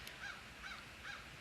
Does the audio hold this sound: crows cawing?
yes